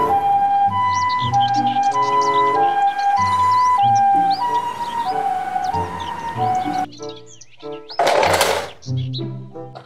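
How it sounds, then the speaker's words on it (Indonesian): A toy ambulance wails with a steady electronic two-tone siren, loud and close, broken near the end by a brief noisy burst, with chirpy synthetic tones running through it. "Mobil ambulans."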